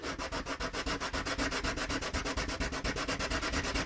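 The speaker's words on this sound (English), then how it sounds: "I'm simply just going to sand this off here" Sandpaper rubs steadily back and forth over molded plastic, taking off mold release buttons from the underside of a tabletop wargame model; the strokes are quick, even and close.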